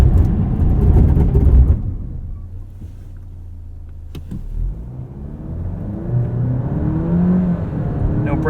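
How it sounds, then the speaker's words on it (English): A 2023 Alfa Romeo Giulia Estrema's 2-liter turbo engine pulls from a roll toward 60 mph, its note climbing through rising revs after a loud start, then a lull and a renewed build. "Let's do a quick 0 to 60."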